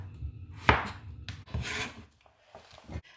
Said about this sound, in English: Now we're going to cut it into half cm thickness.